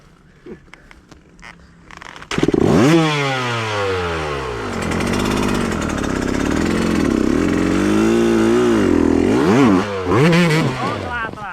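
Trail motorcycle engine revving hard on a mountain trail at Gunung Gajah Mungkur, loud and close with repeated throttle blips and rising-falling pitch sweeps, after brief talk at the start.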